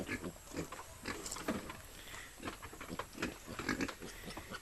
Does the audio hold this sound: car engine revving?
no